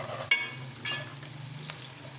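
Onions frying in a pan for potato and pea rice, a soft steady sizzle with a couple of brief stirring clatters, close and fairly quiet, no talking.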